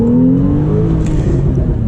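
Porsche 911 engine revving while driving, a loud close rising engine whine with steady tonal harmonics climbing in pitch over a low rumble, no speech.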